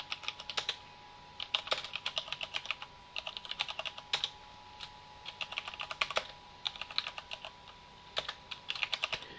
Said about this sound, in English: I have to type in a few lines to make sure that it actually runs the program